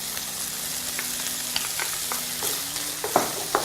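Pepper being stirred into a hot frying pan, a dense continuous sizzle with scattered light scrapes and taps of the utensil growing busier toward the end, close and moderately loud, no voices.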